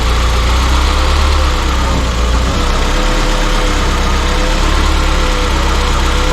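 A Peugeot 205 GTI engine runs steadily after being started for the first time in years, a loud, close, continuous idle with a deep rumble and constant vibration throughout, with no talking.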